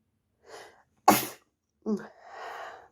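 A woman sneezes once, loud and close, after a short intake of breath, then speaks quietly right afterward.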